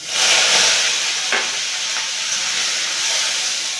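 Onion paste, garlic paste and slit green chillies fry in a pan for a Bengali kochu flower dish, giving a steady loud hiss with a few brief sharper spits and no talk.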